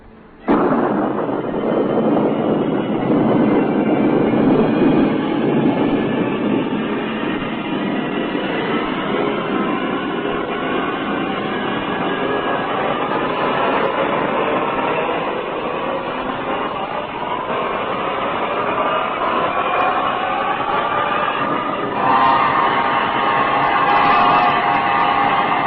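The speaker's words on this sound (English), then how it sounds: "Countdown for blast off. X minus 5, 4, 3, 2, X minus 1," A rocket blast-off effect from the X Minus One science-fiction radio drama: a loud, sustained roaring rumble that erupts suddenly and holds steady throughout with no voices over it.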